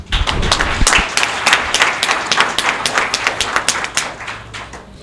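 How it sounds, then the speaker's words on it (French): Audience at a French-language ceremony reviewing educational programs claps steadily for several seconds, a dense patter of many hands close by with a few louder individual claps, fading slightly toward the end. "On peut les applaudir."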